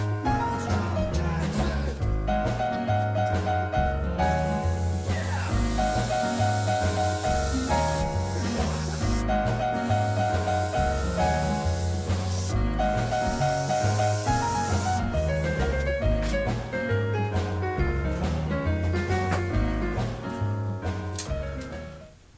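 Aerosol spray paint laying a second coat on a Black Knight pinball machine part, several sustained hissing bursts of a few seconds each, heard beneath steady background music.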